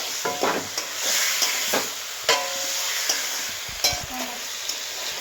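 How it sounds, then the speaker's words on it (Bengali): Meat coated with salt, turmeric and tomato is stirred and mixed in a hot pan, steady sizzling broken by repeated scraping strokes of a spoon, close and clear with no talking. "মাংসটা আমি ভালোভাবে মাখিয়ে নেবো।"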